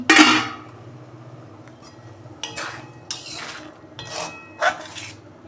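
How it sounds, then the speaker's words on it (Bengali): Metal cookware clatters as a lid comes off a pot of vegetarian ghugni: a sharp clang at the start, then scattered lighter clinks and scrapes at moderate volume over a quiet room. "দেখুন বন্ধুরা, ঢাকনা খুলছি"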